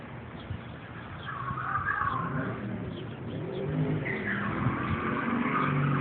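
A 1989 Ford Mustang 5.0 peels out, its engine roaring and tires skidding in a rising, sustained burst that swells twice, heard from a moderate distance with no talk.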